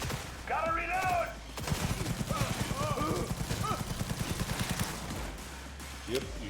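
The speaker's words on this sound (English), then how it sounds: "I didn't even know that turret was over there." Rapid turret gunfire from a Cyberpunk 2077 firefight, a sustained burst of close, evenly spaced shots over several seconds, with game voices speaking around it.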